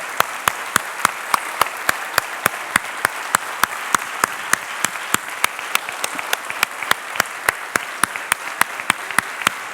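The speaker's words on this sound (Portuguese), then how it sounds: "pedindo para vocês dar o aplauso para Jesus pela ressurreição mais demorado que vocês já deram" A congregation applauds at an Easter church musical with sustained, dense clapping and regular sharp claps standing out, loud and continuous throughout.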